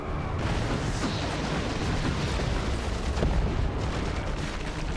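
Grenade explosions in the Dawn of War 2 strategy game on the Ladon Swamplands map, a dense continuous roar of booming blasts and battle noise, loud and sustained with no gaps.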